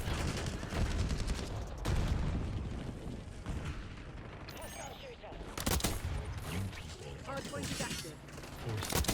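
Rapid gunfire from a SAUG submachine gun in the video game Black Ops, with dense, loud bursts of shooting and explosions running almost continuously over the whole stretch.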